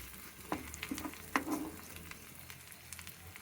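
Vegetables fry in a pan for dondakaya vankaya pachadi, with a soft sizzle and several sharp scraping stirs from a spatula, close up and quiet.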